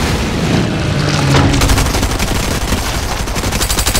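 Rapid automatic gunfire in Fortnite rattles loudly in dense bursts, with a heavy boom early on and then a fast, continuous stutter of shots that keeps going to the end.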